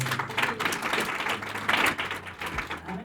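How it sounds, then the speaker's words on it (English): Applause from an audience at a women in business launch event, a steady patter of many hands clapping that stays fairly faint, with low background hum beneath it. "So give yourselves a round of applause."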